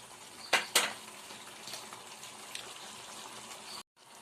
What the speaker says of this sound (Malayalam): നന്നായിട്ട് തിളച്ച് വരുന്നുണ്ട്